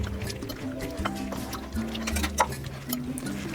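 Prawns being mixed by hand with a marinade of pepper powder, chilli powder, salt and lemon, giving soft wet squishing and liquid dripping sounds, fairly close and quiet, with no talk over it.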